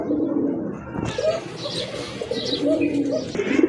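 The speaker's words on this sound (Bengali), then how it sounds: "আরেক জোড়া কবুতর, বড় পায়রা কবুতর, খুবই চমৎকার এক জোড়া কবুতর।" A pair of large pigeons coo repeatedly at close range, with soft chirps between the throaty calls.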